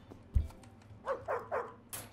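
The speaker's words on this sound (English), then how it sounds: "Stop barking." Dog barking in the video game Animal Shelter Simulator, a quick series of three or four short, close barks after a single low thump, with no talking.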